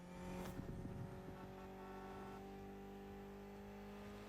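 A tuned car engine built for Gymkhana-style driving in The Crew Motorfest drones steadily at a sustained rev, with a brief louder burst near the start, then holds a constant hum alone.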